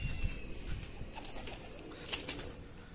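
A domestic pigeon perched on a rooftop in a residential neighbourhood coos softly a few times amid faint outdoor background noise.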